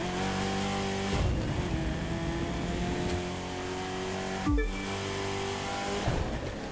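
Race car engine in The Crew 2, a steady loud drone with revving pitch shifts and brief gear-change dips, heard alone without talk.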